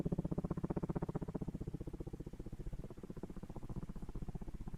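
A helicopter flies in the military video game Arma Reforger, its rotor chopping in a fast, even pulse that sounds close and continuous, with no talking over it.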